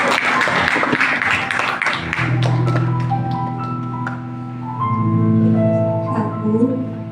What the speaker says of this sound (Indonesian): ya, tepuk tangan. Ya, jangan ragu-ragu.